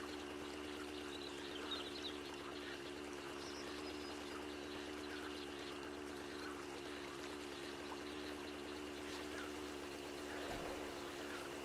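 A vehicle driving through water in a survival video game produces a steady, faint rush of splashing and sloshing water over a constant low engine hum, with no talk.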